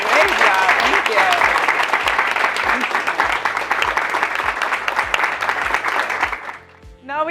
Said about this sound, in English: an applause to everyone here